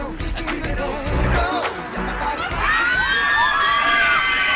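A huge crowd of fans greeting the singer cheers and screams, with high-pitched shrieks and whoops rising over a dense, loud, sustained roar that swells toward the end.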